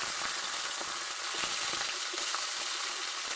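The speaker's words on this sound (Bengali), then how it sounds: "তেল গরম হয়ে গেছে, আমি একে একে মাছটাকে ছেড়ে দেবো কড়ার ভিতরে" Fish fries in hot oil in a wok, giving a steady, close crackling sizzle with scattered pops and no talking.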